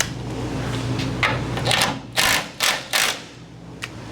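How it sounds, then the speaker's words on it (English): Short bursts of an impact wrench hammering at cross member bolts under a 1964 Ford F100 during a transmission swap, several rattling rapid-fire pulses separated by pauses, close in a quiet garage. "I'll pop these bolts on the cross member first. Or try to. I might need a bigger impact for these."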